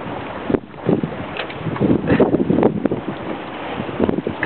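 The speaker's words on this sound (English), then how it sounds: "It's going to be fun in this wind." Strong wind of about 18-19 knots buffets the microphone on the harbour guard at Harwich, a loud continuous rushing roar with gusty surges and rumble, no voices.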